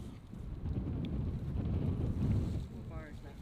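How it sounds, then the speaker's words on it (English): Wind gust blasting into the microphone beside an erupting Kilauea spatter cone, a loud low rumbling buffet that swells and peaks midway, then eases off. "here comes that 10-15 mile gust up on our backs."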